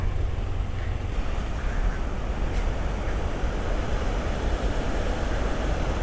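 Floodwater pours and rushes through large dam gates carrying debris, a loud, dense, continuous roar close by with no letup.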